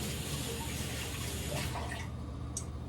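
Water runs steadily from a tap at a kitchen sink as fingers are rinsed under it, a constant close rushing stream with a few brief splashes near the end.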